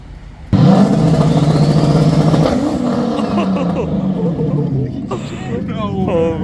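A motorcycle engine idles loudly and steadily with a choppy, lumpy rhythm, filling the whole stretch after it fires up, while people talk excitedly over it.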